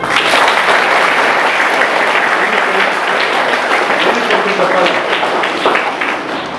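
A room full of schoolchildren clap loudly together, a dense, steady roar of hand claps that holds strong from start to finish with no voices over it.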